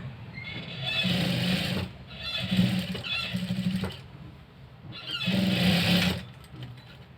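A sewing machine stitches a patch onto a patchwork blouse in three loud, rapid bursts of stitching, each lasting roughly a second or two and separated by short quiet pauses.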